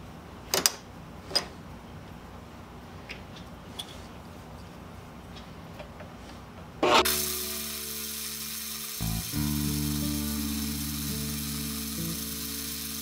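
A 3/16 drill bit with oil on it bores a hole in a metal linkage bearing mount for a treadle grinder, a steady, fairly loud motor whine starting after a stretch of faint ticks and clicks, with one brief pause.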